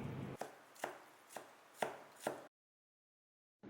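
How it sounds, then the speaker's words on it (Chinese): A knife chops ginger into slices on a cutting board, five distinct close thuds at an even pace, then silence before another cut begins. "我们先把姜拿出来切成片，然后切成蒜末。"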